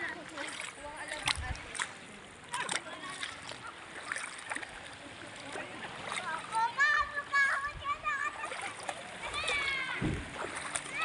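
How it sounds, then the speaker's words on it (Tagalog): Water splashes as people wade in clear water in the Lipit River, with intermittent sloshes and splats mixed with people chatting and a voice nearby. "Sarap magtampisaw."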